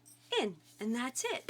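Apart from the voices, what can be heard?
dog whimpering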